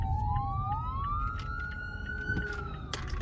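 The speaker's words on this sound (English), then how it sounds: "Okay, ambulance coming." An ambulance siren on a city street wails in rising and falling sweeps against traffic rumble, fairly close and steady, with a brief horn-like blast near the end.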